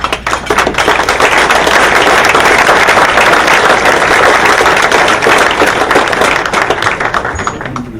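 A room of guests at a University of Washington orthopaedics resident graduation dinner breaks into loud, dense, sustained applause that holds steady for several seconds and then fades slightly.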